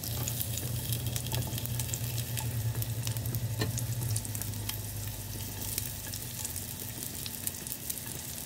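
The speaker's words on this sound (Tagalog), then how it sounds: "first tayo ay maggigisa ng bawang. Ayan. Sabay na rin natin tong sibuyas." Garlic and onion sautéing in oil in a pan, a dense continuous sizzle with light crackle and the odd stir, close and steady, with no voices.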